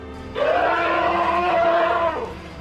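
An angry elephant lets out a loud squeal while driving a hippopotamus away from the water. It sounds as one long, strained, high-pitched cry of almost two seconds with no other sound over it.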